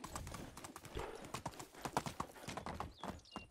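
Horse hooves clip-clop steadily in Medieval Dynasty, a rapid rhythmic run of hoofbeats close and clear throughout, with no talking over them.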